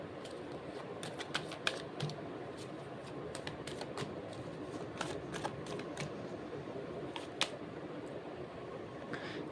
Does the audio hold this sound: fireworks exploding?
no